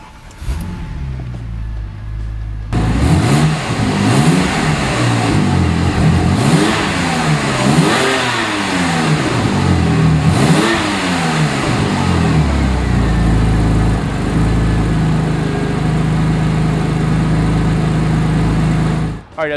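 A 2001 Porsche 911 996 AWD twin turbo cranks and starts, then revs hard several times in rising and falling sweeps before settling into a loud, steady idle close by.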